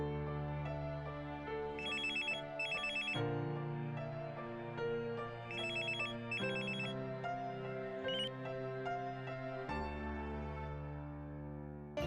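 A telephone rings with a repeating electronic melodic ringtone, steady bursts of bright chiming tones cycling for several seconds, clear and alone without talk.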